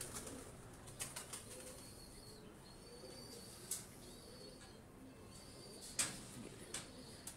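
Pigeons in a breeder's loft setup give faint, soft coos with scattered light wing flaps and clicks over a quiet background.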